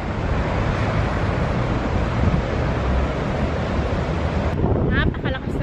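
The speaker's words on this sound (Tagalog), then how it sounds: "Napakalakas ng hangin." Strong wind buffeting the microphone on a high lookout above the sea at Coolum Beach, Queensland, a loud continuous roar with surf beneath, dropping away near the end as a voice briefly speaks.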